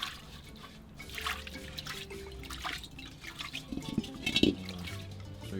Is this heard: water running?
yes